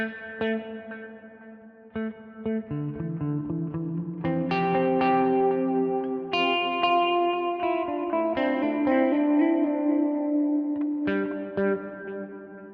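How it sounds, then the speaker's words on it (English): An electric guitar through a Line 6 Helix plays sustained notes and chords, its delay repeats smeared into a wash of heavy reverb, fairly loud and continuous with no voices. "you'll hear that every one of those repeats gets drowned in this reverb"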